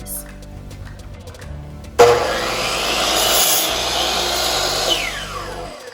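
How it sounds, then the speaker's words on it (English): A handsaw cuts through a wooden board with steady, close rasping strokes that begin suddenly and continue at an even pace for several seconds. "go ahead and cut your wood"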